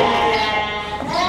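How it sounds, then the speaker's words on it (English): Sheep bleat loudly and close by in a barn, one sustained wavering call filling the short moment with no talk over it. "they got sheep."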